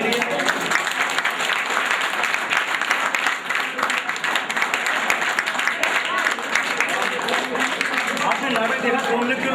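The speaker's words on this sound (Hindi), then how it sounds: "जोरदार तालियां बजाने के लिए।" A theatre audience applauds after a performance of the play Court Martial with loud, steady, crowded clapping throughout, while a few voices mingle underneath.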